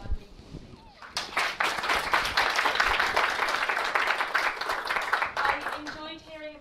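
An audience at the Clear Voices 2014 event applauds speaker Margaret Mwaniki: a full, sustained burst of many hands clapping for about five seconds, with brief talk before it begins and as it fades.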